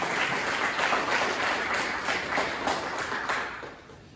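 A church congregation at a Spanish-language Sunday service claps for the Lord, a dense crowd applause with a faint rhythmic pulse that holds, then fades toward the end.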